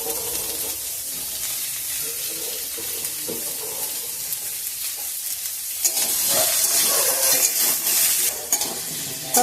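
Carrots and beans frying in a pan, with a steady broadband sizzle and occasional stirring scrapes that grow louder and more crackly toward the end, no voices.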